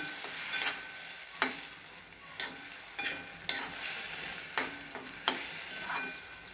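Red chickpeas sizzle softly in spice masala in a pan while a utensil stirs and scrapes them in regular strokes, each stir a sharp clatter over the steady frying hiss.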